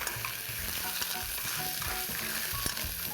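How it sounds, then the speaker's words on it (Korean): Clams in their shells sizzling and crackling in oil over high heat for vongole pasta, a steady dense frying hiss with scattered pops and a few stirring clinks, close and continuous with no talk. "이때 조개를 여기에 지금 껍질 있는 거는 전부 넣어주실게요. 센 불 유지하시면서"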